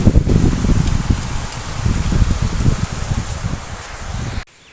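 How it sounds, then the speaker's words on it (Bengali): Heavy rain pours down outdoors in Purnea as a loud, dense, continuous wash that cuts off abruptly near the end, with no speech. "খুব কষে বৃষ্টি হচ্ছে।"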